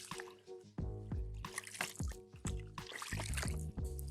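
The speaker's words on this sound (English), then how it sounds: "I'll just quickly grab some water over here." Water is scooped up outdoors on a hike to test a portable filter: repeated gurgling, sloshing pulses of water, close by and fairly quiet, with short drips between the scoops.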